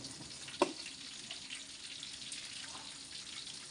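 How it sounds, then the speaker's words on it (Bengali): Dried fish fries in hot oil with garlic, giving a quiet, steady sizzle close by, with a single sharp clink early on and no talking. "শুটকিটাও তেলের ভিতরে একেবারে কুচমুচ করে ভেজে নেব"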